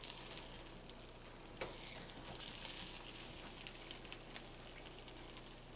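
Crab cakes frying in butter in a pan, a steady dense sizzle with faint crackles throughout, close and continuous with no talking.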